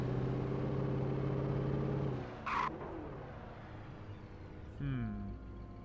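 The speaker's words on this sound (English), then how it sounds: "just magically get into this car and just drive it" A car engine drones in the Alan Wake video game with a steady, humming tone for about two seconds. It then fades to a low idle, with a short rising rev near the end and a voice talking over it.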